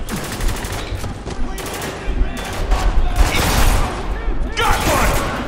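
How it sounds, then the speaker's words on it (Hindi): Gunfire in the shooter video game Spec Ops: The Line, rapid bursts and heavy booming shots rolling together into a loud sustained barrage, with a voice talking at the start. "बज गए शॉटगन"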